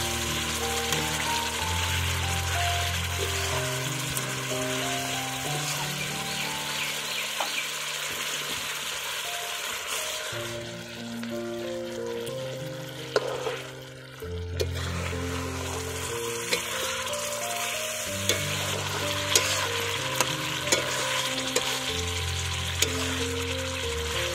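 An egg and cabbage omelette is stirred into spice masala frying in a pan, a steady bright sizzle running throughout with occasional scraping of the spatula, close and fairly loud, over background music and without speech.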